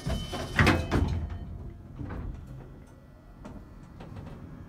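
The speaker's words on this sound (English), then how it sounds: "Please mind the doors. Doors closing." A modernised old Otis elevator at Marmion House, Worcester: its doors slide shut with a clunk and a brief rattle, then the car starts down with a soft, low rumble.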